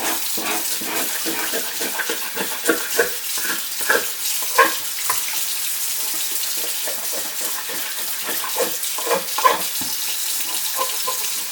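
Rendered wax scraped under cold running water, a constant loud tap stream with scattered scraping and knocking sounds close by throughout.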